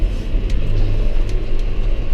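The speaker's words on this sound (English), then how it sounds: "There's a car coming at me head on." A car approaches head on along a road beside a hay field during baling, a loud, steady low rumble of engine and tyre noise that holds throughout with no speech.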